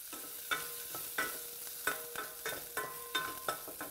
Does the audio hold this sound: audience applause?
no